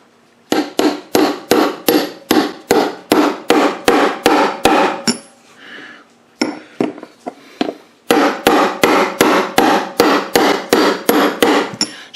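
Steady hammer blows tap a socket down onto a part during a 1971 Mercury 500 outboard powerhead rebuild, around a dozen sharp, even strikes, a short pause with softer handling, then another quick run of taps, close and loud.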